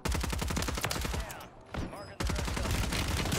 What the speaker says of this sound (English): Somebody's shooting at me